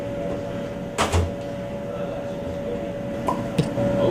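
A broken microwave oven runs with a steady electrical hum while its door or a cupboard clunks open and shut a few times, close and moderately loud.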